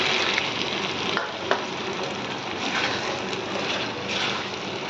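Sugar and cornflour slurry hitting a hot pan of sautéed food set off a continuous, close sizzle with steady stirring scrapes and an occasional sharp clink of the spoon.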